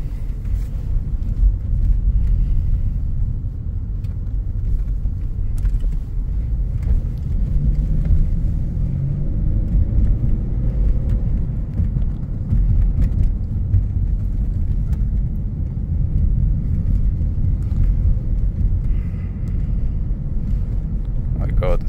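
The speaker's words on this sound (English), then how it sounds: "Let's go ahead and take it around the block." A 2016 Ford Escape SE with about 58,700 miles drives around the block, giving a steady loud engine and road rumble with wind buffeting throughout.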